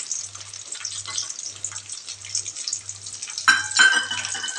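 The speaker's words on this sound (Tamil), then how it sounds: "செவக்க வறுத்துக்கலாம்." Cashews fry in a pan for sweet pongal, giving a soft continuous sizzle with faint stirring scrapes, then a louder crackle and clatter near the end.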